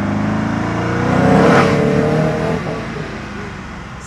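A Koenigsegg Agera R supercar's engine roars loudly as it accelerates on a small track, a sustained dense rumble that swells to a peak midway and then eases slightly.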